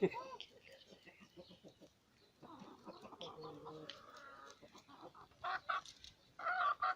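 Chickens cluck and a rooster calls intermittently nearby in a village, with sharp bursts near the end, amid quiet outdoor background and occasional voices.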